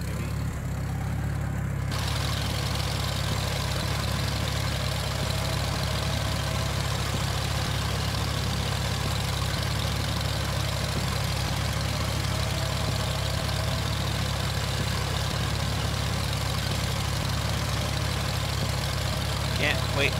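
A tractor engine idles in a Farm Sim video game, a steady, loud, low rumble that holds without change throughout.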